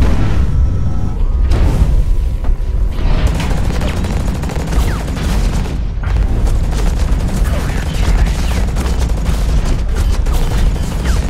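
Rocket blasts and gunfire explosions in the mech shooter game Hawken form a dense, loud, continuous barrage of booms and rapid shots throughout.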